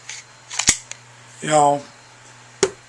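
A Glock 23 or S&W 99 pistol trigger is pulled, giving sharp isolated mechanical clicks, one near the start and another near the end, with a brief voice between them.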